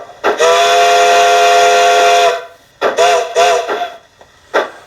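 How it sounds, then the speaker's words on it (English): A loud, steady whistle blows for about two seconds, then two shorter muffled toots follow, with a brief puff at the end. "and blow the whistle."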